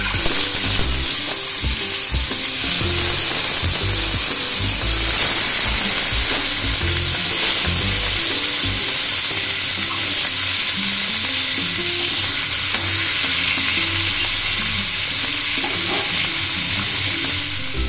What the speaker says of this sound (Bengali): এবারে আস্তে আস্তে আমি মাছগুলো ভেজে নেব।